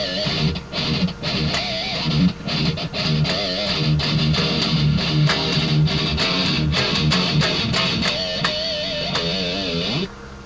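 Heavily distorted electric guitar in a heavy metal style in dropped D tuning, riffing continuously with squealing, wavering pinch harmonics piercing the dense, loud tone.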